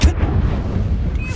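Fire spell cast in Hogwarts Legacy: a loud whooshing burst of flame erupts at the start, then a dense roaring crackle holds steady for over a second, ending with a faint high whistle.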